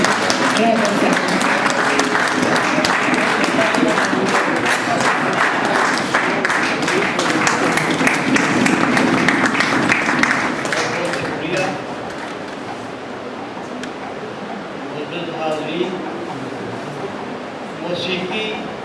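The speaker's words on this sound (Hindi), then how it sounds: "तालियों की गड़गड़ाहट का सिलसिला चलते रहना चाहिए" Concert audience applause: a thick roar of clapping that stays loud for about ten seconds, then thins and fades as a voice begins speaking over the hall.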